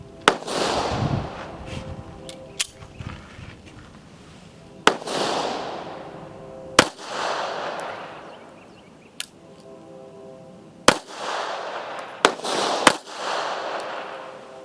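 Gunshots from a Taurus Spectrum pistol at target practice, sharp loud single cracks spaced irregularly, about eight over the stretch, each followed by a short ringing decay, with no talking.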